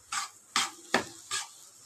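Four evenly spaced scrapes of a spatula through mashed potatoes frying in oil in a wok on high flame, close and rhythmic with a soft sizzle between strokes.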